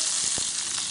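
A hot tempering of mustard seeds, cumin and asafoetida sizzles as it is added to moong dal rasam, a steady close hiss with a couple of soft crackles, heard alone.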